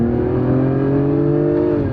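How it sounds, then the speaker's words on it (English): Sports sedan exhaust, heard from inside the cabin at full throttle in Sport Plus mode, a loud, steady droning engine note that climbs gradually in pitch as it accelerates. "let's talk about this exhaust sound. I'm gonna floor it from the inside in Sport Plus"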